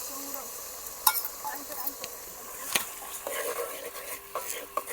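Tomatoes go into a pan of whole-brinjal gravy curry cooked village style, giving a steady close sizzle with scraping stirs and light utensil clinks throughout.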